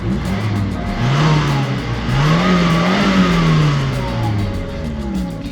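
An abandoned Mustang's engine revs up and down in a few loud, close swells over a steady idle, with no talk.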